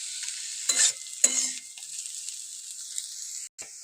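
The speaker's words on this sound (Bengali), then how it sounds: "তো আমার মাশরুমটা পুরো ভাজা হয়ে গিয়েছে" Mushrooms frying in a pan, a soft steady sizzle with a couple of brief scraping stirs of the spoon, quiet and close.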